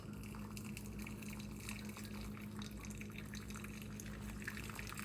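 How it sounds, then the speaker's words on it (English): Water is poured slowly onto ground coffee for a pour-over, making a faint, steady trickle over low background hum. "We're going to do the pour over."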